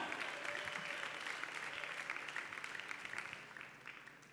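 A church congregation claps for the Lord during a sermon, a dense, sustained wash of applause that stays steady and slowly tapers toward the end, with faint voices mixed in.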